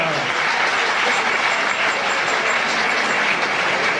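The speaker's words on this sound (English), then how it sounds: "come on, a big round of applause" A boxing crowd in Melbourne cheers and applauds after a fight, a steady, loud wash of clapping and roaring that fills the whole stretch without a break.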